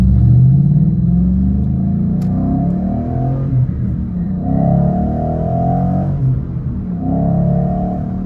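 A Mustang GT 5.0 with original cats, an X-pipe, no resonator and MBRP mufflers, about 200,000 miles on it, rumbles deep and loud nearby, revving up and settling back several times in rising and falling waves.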